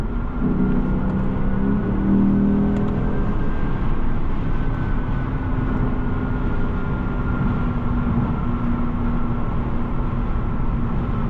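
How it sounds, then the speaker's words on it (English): A deep, steady V8 engine rumble from a 2016 Lexus GS F drones throughout, heard from inside the moving car, with road noise underneath and no talking. "I can never get tired of hearing that V8."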